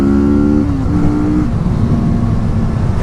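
A 2016 Kawasaki Vulcan S motorcycle pulling hard in second gear, the engine note climbing then settling into a steady loud drone close to the rider, with no talking.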